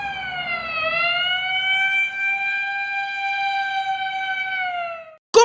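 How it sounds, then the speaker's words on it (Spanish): An ambulance siren wails alone as one steady, rising-then-level electronic tone held for about five seconds, loud and close, then cuts off abruptly. "¿Cómo se llama? ¡La ambulancia!"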